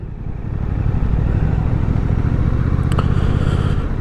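Suzuki GSX-8S parallel-twin motorcycle under way, its engine note a loud, steady, throbbing low pulse heard from the rider's position, mixed with wind rush and held constant for several seconds.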